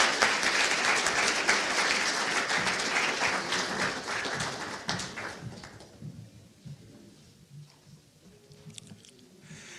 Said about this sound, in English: please help me welcome Stephanie Dominguez with a round of applause to the stage